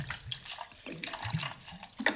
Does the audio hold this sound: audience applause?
no